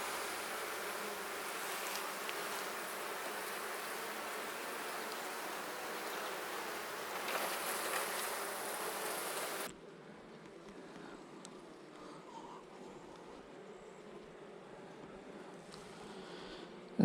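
Honey bees buzz steadily in an open beehive, a dense, continuous hum heard close by. The hum drops to a quieter, more distant buzz about halfway through, with no talking.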